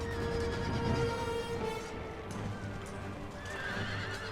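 Winged hussar cavalry charge in an Empire Total War battle, with a dense, steady clatter of hooves and repeated horse whinnies over a busy battlefield din, moderately quiet.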